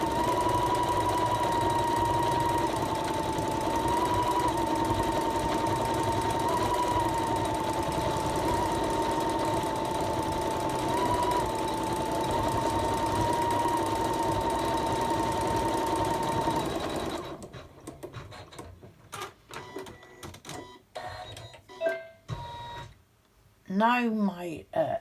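An embroidery machine stitches the outline of a gingerbread boy tree hanger, a steady humming needle drone for most of the stretch, then it stops and a person talks over quieter handling sounds.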